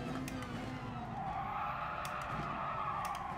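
Tyres skid and squeal as a race car's rear end slips in Gran Turismo Sport during an FIA Manufacturer Series race, a faint, steady screech over continuous engine noise.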